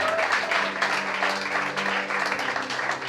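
A church congregation applauding and cheering for Jesus, a dense continuous wash of clapping and voices filling the room throughout.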